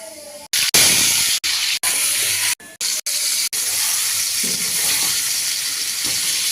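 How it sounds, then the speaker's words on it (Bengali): Hot oil sizzles with white cumin, bay leaf, potatoes, tomatoes and mixed spices for a vegetarian jackfruit curry. A broad, steady frying hiss runs throughout, broken by several abrupt short gaps early on, with no voices. "তেলটা গরম হয়ে গেছে, আমি এতে সাদা জিরে আর তেজপাতা ফোড়ন দিয়ে আলু, টমেটো আর সব রকম মশলা দিয়ে একটু কষিয়ে নেব"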